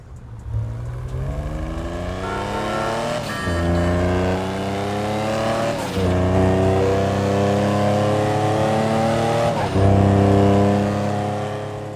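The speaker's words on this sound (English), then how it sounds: "listen to the beautiful sound the exhaust and engine makes" The Stirling sports car in the video game GTA Online revs up repeatedly, its exhaust rising in pitch through several gear shifts, loud and close with no talking.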